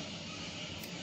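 A dense, roaring rumble of space shuttle main engines igniting before launch, steady and broadband like a distant powerful thrust, continuous through the short moment.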